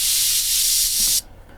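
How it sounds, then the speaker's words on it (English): A white noise riser in an electronic track: a loud, broad wash of hiss sustained for over a second, then cut off abruptly into near silence. "We have a few like white noise effects, which go along with the riser."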